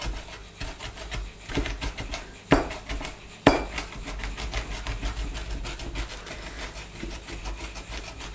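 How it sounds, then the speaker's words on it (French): Sweet-sour pickled gherkin slices are chopped with a mezzaluna on a board, making rapid repeated rocking taps and scrapes with a few sharper knocks, close and continuous. "Alors je les hache mais de telle sorte, vous voyez j'utilise la demi-lune comme ça"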